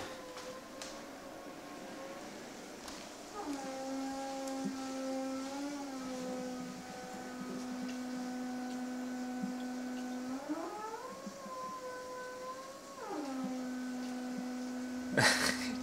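A vacuum cleaner runs with a steady motor drone and a clear whining tone that shifts pitch several times, fairly loud and continuous, with no talking.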